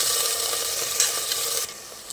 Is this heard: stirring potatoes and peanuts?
yes